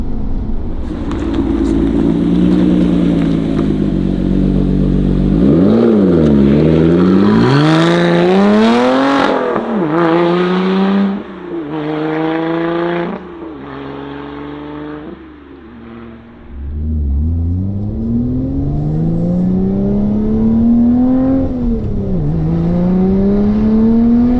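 A Lotus Evora sports car engine revs repeatedly, rising and falling in pitch through several sharp bursts, loud and close, with a steady idle between pulls.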